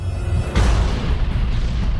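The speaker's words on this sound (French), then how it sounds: "Un objet de la taille de Mars s'écrase sur notre planète" A deep cinematic boom marks a Mars-sized object striking the early Earth, arriving abruptly after a low rumble and followed by a loud roaring wash of noise.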